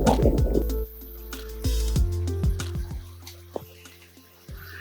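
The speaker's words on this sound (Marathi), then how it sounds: "झरा चालू आहे, धबधबा छोटासा." A small stream and waterfall trickle along a jungle trek in the hills, with soft, close dripping and splashing water running steadily beneath a few sharp splats.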